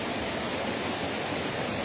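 The waterfall at the mill of La Frasnée gives a steady, dense rushing roar that fills the whole moment without a break, with no voices.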